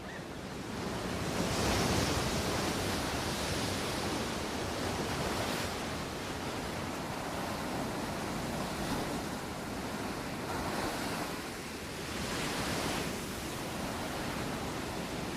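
Sea waves wash against a wild Scandinavian coast in a continuous faint roar, swelling and easing in slow surges, with wind noise mixed in and no voices.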